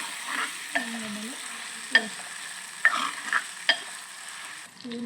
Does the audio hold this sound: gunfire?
no